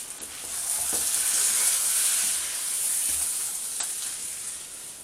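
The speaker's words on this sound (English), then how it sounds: "Make sure everything's coated, and then just let it simmer gently on 7" Duck and mixed vegetable curry simmering gently in a new wok on a medium setting, giving a steady, close bubbling sizzle and hiss with a couple of faint utensil clicks.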